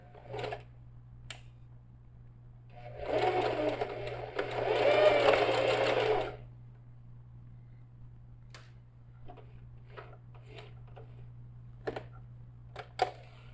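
A sewing machine runs slowly through a bag-style pencil case with pins left in, a steady whirring burst of about three seconds in the middle of the clip, framed by faint ticks and handling clicks over a constant low hum.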